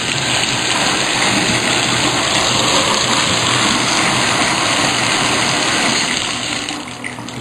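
A kitchen water faucet runs at full pressure, giving a loud, steady broadband gush of water that holds constant throughout with no voices.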